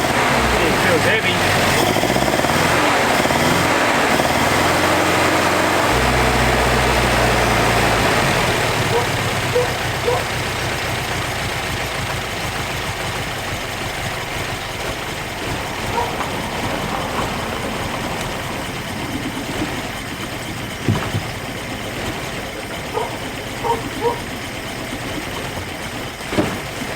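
A Toyota Hilux's 18RG engine runs after its first start in years, a low throbbing idle that is loud early on, then settles under rougher mechanical noise with occasional knocks.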